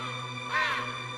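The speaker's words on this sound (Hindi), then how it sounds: "आजकल कौवे भी रात को जल्दी नहीं सोते" A single crow caws once at night, a short harsh call standing out briefly over a steady electrical hum.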